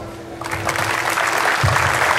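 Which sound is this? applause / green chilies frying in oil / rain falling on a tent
applause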